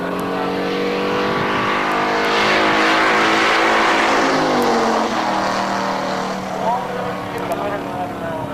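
A race car launches at a 2003 FAST drag race at Norwalk with a loud, sustained engine roar whose pitch climbs and shifts as it accelerates away, heard from the track side.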